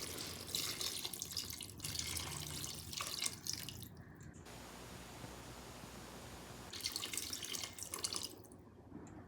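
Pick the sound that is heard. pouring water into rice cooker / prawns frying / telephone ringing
pouring water into rice cooker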